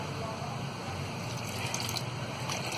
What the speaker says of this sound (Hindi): थोड़ा पानी हम और डालेंगे।